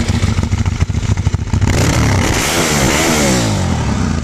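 A Ducati 1198S motorcycle engine is blipped in quick rhythmic revs, then held in a loud, sustained rising roar up close.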